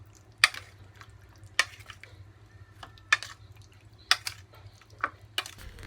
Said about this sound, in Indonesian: Lalu bisa aduk hingga merata sehingga bumbunya bisa meresap.